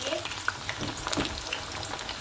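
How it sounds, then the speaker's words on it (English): Sliced plantain sizzles in a pan over medium heat, a soft, steady crackle with scattered pops and faint stirring, quiet and close. "I'm just frying it like this. I'm frying it on a medium heat"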